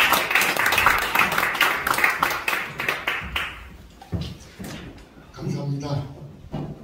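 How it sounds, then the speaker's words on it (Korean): A church congregation claps to welcome a pastor coming forward: loud, dense applause for about three seconds that quickly dies away, followed by a voice speaking and some room noise. "우리 나오실 때 큰 박수 한번 주시기 바랍니다."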